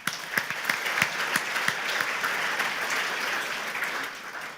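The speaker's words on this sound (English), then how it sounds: "How's about a round of applause?" A New Year's banquet audience in a hotel ballroom claps, a smattering of separate claps at first, swelling into steady applause that fades toward the end.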